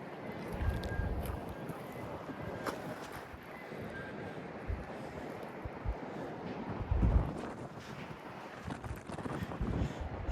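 Strong wind buffets a small fishing boat at sea, gusting in uneven rumbling bursts against the microphone, with water sounds and a faint voice in the background.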